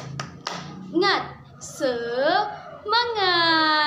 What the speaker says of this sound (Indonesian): kita akan membangkitkan semangat kita dengan cara tepuk semangat